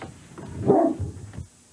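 A small dog gives a short burst of barks and yips outdoors, moderately close, with a few softer whimpering sounds trailing after.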